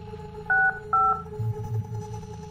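Two crisp keypad dialing tones beep one after another on a phone in the horror video game The Guest, followed by faint low thuds and room tone.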